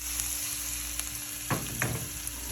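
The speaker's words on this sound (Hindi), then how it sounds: "मैंने कहा इनको तड़का लगा दूँ।" Boiled food tossed into a pan for a tadka fries with a steady close sizzle, broken by two louder crackling bursts as it is stirred, with no talking.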